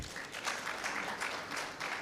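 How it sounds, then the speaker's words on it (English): A faint, brief patter of audience applause at an agroecology regional summit in Uganda, steady clapping from a gathered crowd with no voices over it. "clap for Felicity again"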